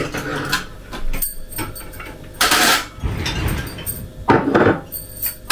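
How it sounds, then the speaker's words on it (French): Small glasses and dishes clinking as they are set down and put away, with scattered knocks, a cupboard sound and bursts of clatter nearby. "Je viens vider les derniers petits verres."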